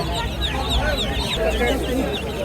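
Poultry calling amid a busy Bangladeshi market in Ashulia, where ducklings are on sale; dense, steady chirping and clucking runs throughout, mixed with crowd noise and talk.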